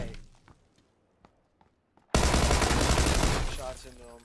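Loud, dense burst of video game gunfire in a duo battle royale match, erupting suddenly after quiet scattered clicks and steps and sustained as continuous rapid shots for about two seconds, with faint voices beneath.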